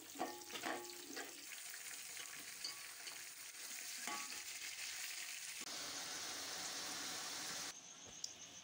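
Chopped garlic and cumin fry in a pot for Punjabi dum biryani, giving a steady close sizzle with some stirring scrapes and clinks. No voices are heard.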